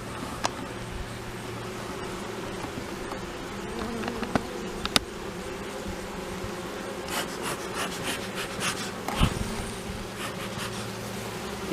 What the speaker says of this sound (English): That'll make a right nice little 7-frame box of bees.